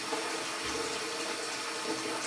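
Water runs steadily from a tap, filling a container for chickens on a homestead, a continuous close rushing hiss that stays even throughout.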